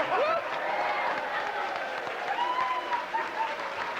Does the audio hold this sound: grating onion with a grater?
no